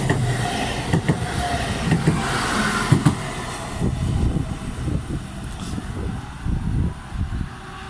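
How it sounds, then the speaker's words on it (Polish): A Regio passenger train pulls into a station in Poland, wheels clattering over rail joints in uneven bursts and rumbling close by, with faint squeals near the start. "Wjeżdża pociąg Regio relacji Szczecinek, Szczecin Główny."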